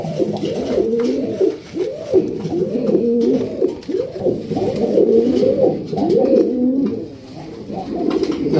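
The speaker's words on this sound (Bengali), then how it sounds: "এটা হচ্ছে হোয়াইট কালার বোম্বাই, এটা কিন্তু ইন্ডিয়ান বোম্বাই কবুতর" White Indian Bombay pigeons coo repeatedly in deep, rolling calls that overlap and carry on through the whole stretch, close and fairly loud.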